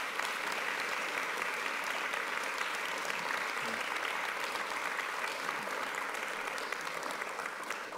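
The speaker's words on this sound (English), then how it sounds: "Can we get another round of applause?" An audience at an evening entrepreneurship talk applauds, a thick, continuous roar of many hands clapping that holds steady for several seconds with no talking over it.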